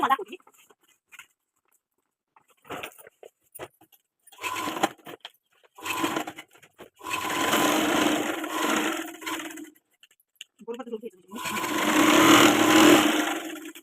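A sewing machine stitches the sides of a cloth bag in several bursts of whirring run, longer ones near the end, separated by handling clicks and pauses.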